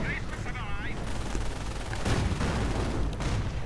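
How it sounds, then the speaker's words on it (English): A firestorm artillery strike and a sticky bomb going off in a World War II strategy game, heard as rapid crackling gunfire and booming blasts, with a brief whistling sweep early on and an excited commentator talking over it. "And sticky bomb going off, and yes indeed we have a firestorm."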